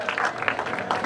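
A short burst of crowd applause at the prize-giving for the I Enduro Villa de Teror motorcycle race, dense clapping from a gathered audience heard on its own.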